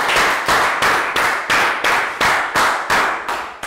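A class of students claps for a classmate in a Year 3 English lesson. About ten loud, sharp, evenly spaced claps land close by in a quick steady rhythm.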